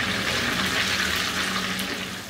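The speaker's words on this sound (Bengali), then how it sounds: "বাকি মাছগুলোকেও আমি একইভাবে সবগুলোকে ভেজে নিব।" Coral fish frying in hot oil in a pan, a dense, steady sizzle that stays loud and close throughout, with no voices.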